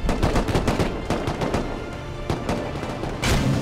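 M2 machine gun turret firing in the game Rust, a loud rapid burst of gunfire with dense repeated shots, a short lull, then another burst near the end.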